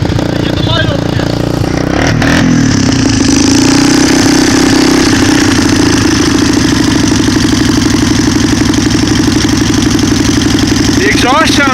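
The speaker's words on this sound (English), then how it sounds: "The exhaust sounds healthy on it." A cold-started Honda engine runs with a loud, steady exhaust drone under intermittent talk, rising once as it is revved, outdoors in snow.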